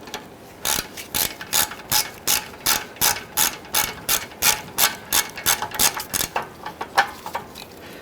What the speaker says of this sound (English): let's go ahead and remove the other 3 nuts completely